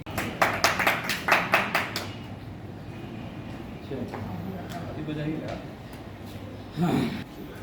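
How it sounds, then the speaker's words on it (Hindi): An audience applauds in steady, rhythmic claps for about two seconds, close and fairly loud, before the clapping gives way to people talking over background noise. "तालियां।"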